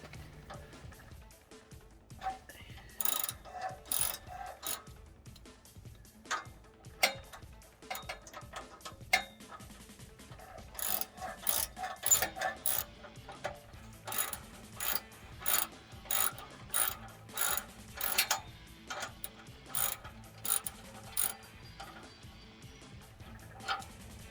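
Axle-back exhaust being pulled off a 2010 Mitsubishi Lancer, with repeated metallic clicks and ratcheting clatter in irregular bursts, close and moderately loud, over a low steady background hum; no talking.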